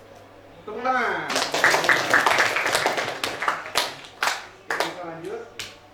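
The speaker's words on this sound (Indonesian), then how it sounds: "Tepuk tangan." A classroom audience claps hands in a short burst of scattered, sharp claps that rise quickly and fade over a few seconds, with a person talking before and after.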